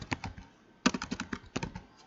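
A computer keyboard is tapped in two short clusters of crisp, close keystrokes, as when pressing Ctrl and plus, quiet and with no talking.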